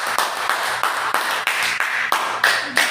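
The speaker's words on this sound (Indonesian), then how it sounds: "Beri aplaus untuk kelompok 2." A small class claps for a student group: close, rhythmic hand claps from a few people, about eight or nine distinct beats at a steady, slightly quickening pace.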